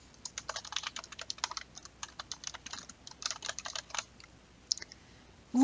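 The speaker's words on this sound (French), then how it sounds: "j'ai tout simplement à taper sur mon clavier" Rapid, irregular typing on a computer keyboard, close and crisp keystrokes in bursts with short pauses, alone without talk.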